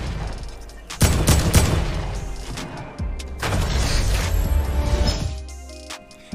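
Heavy gunfire from the battle royale game Fortnite, with bursts of rapid shots and booms that start around one second and three seconds and sustain loudly, with a brief quiet gap between them.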